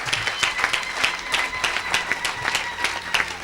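Church congregation applauding at a service with an apostle preaching, steady dense clapping throughout, moderately loud and close, with no voices over it.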